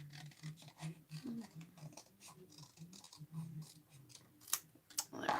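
Scissors cutting out paper templates, with soft repeated snips and paper rustles close by, irregular and quiet, ending in a few sharper crinkles.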